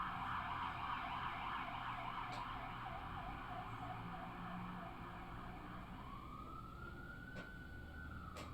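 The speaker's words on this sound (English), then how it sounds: "Hold on, I'll wait for the siren." A wailing siren rises and falls steadily in the distance over a low rumble of traffic, then shifts into a long swooping tone near the end.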